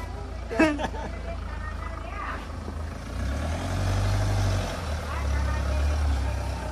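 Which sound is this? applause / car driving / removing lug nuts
car driving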